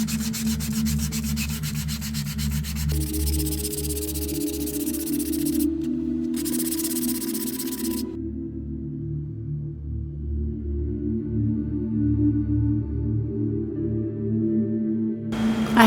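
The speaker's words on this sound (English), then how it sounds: "it is okay to start sanding it" Dried foam clay being sanded gives a continuous scratchy rubbing, close and steady, over a constant low electrical hum, with the grit texture shifting as the strokes change partway through.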